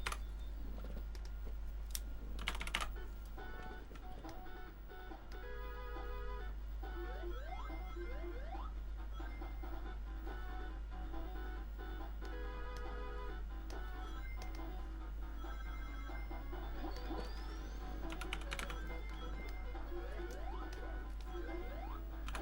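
Steady typing on a computer keyboard during a livestream, continuous quick key clicks close to the microphone over a constant low hum, with no talking.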